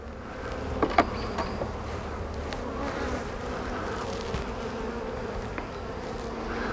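Honey bees buzz steadily around an open hive during an inspection, a dense droning hum with occasional soft knocks and clicks from handling the frames.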